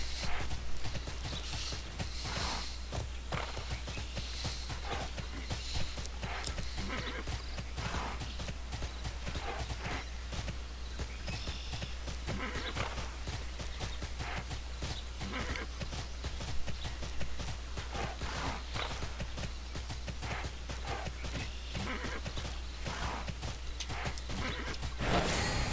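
Horse hooves while riding in the video game Tera, a steady fast clip-clop of galloping steps running throughout, with an occasional whinny over a low constant hum.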